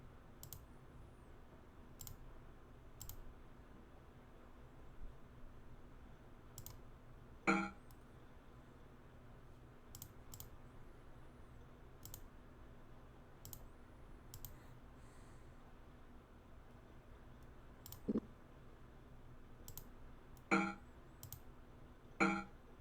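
Computer mouse clicking during play of the role-playing game Betrayal at Krondor: sparse, sharp single clicks spaced irregularly over quiet background hum, with a few brief metallic chinks mixed in.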